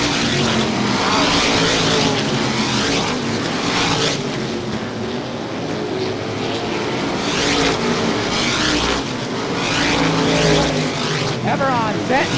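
Race cars lap the track in a 1988 ISMA 200-lap race, their engines roaring loudly and continuously as they sweep past. A commentator talks over the noise.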